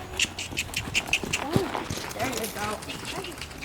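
Poultry clucking and squawking in short, repeated bursts nearby, with people talking over the birds.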